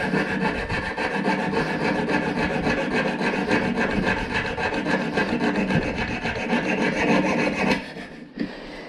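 A hand saw cuts steadily through a pure copper ring, a dense rhythmic rasping of rapid back-and-forth strokes up close, continuous for most of the clip before stopping abruptly near the end.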